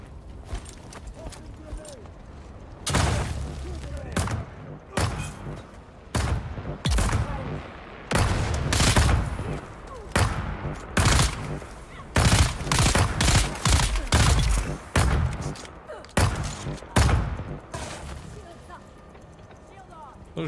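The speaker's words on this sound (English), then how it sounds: "This one's a burst rifle." Repeated bursts of rifle fire in the sci-fi game Dune: Awakening, sharp clustered volleys coming in quick groups with short gaps, loud and close, with other game noise between them.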